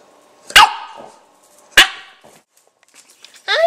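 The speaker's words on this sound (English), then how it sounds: "I'm a cute little puppy." A puppy gives two sharp, bright barks spaced about a second apart, close and clear against quiet, followed by a higher yelp at the end.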